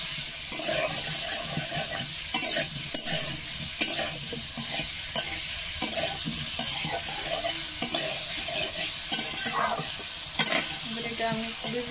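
Panch phoron spices frying with salt in a pan, a steady crackling sizzle with occasional stirring scrapes and clinks, close and continuous throughout, with no voices.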